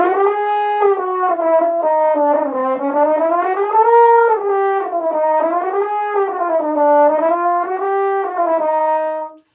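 A French horn plays a smooth chromatic warm-up, gliding continuously up and down through every note between intervals in one long, sustained, loud phrase, alone with no talk.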